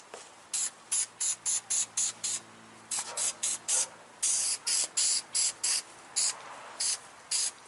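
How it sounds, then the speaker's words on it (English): Short bursts of spray adhesive hiss in a quick, irregular rhythm, close by, with brief silent gaps between the sprays, while wrapping a headliner near the visors of an MK4 Golf GTI. "we got spray down here"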